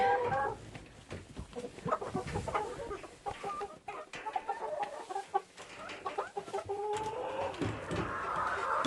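Farmyard chickens cluck and chatter steadily nearby as they are fed vegetable peelings on a sunny farm, a busy overlapping flock with no talking.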